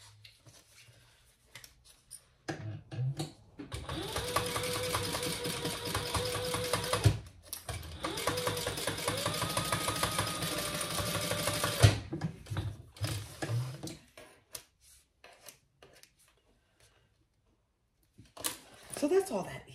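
Domestic sewing machine basting a small fabric bottle holder in place for a tote bag, running in two steady bursts of fast mechanical stitching separated by a brief pause, with quiet handling noises before and after.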